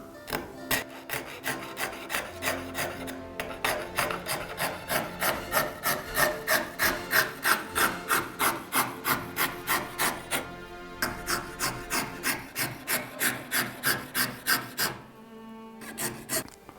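An old Soviet hand fretsaw cuts through walnut wood in steady, rhythmic back-and-forth strokes, a close rasping scrape repeating about twice a second for over fifteen seconds before stopping.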